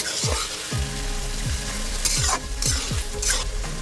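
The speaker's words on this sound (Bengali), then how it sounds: "গ্যাসটা একটু জোর করে আমি একটু ভালো করে এটা ভাজবো" Ridge gourd frying in a pan over a high flame sizzles steadily while a spatula stirs and scrapes in repeated strokes, close and loud, with no talking.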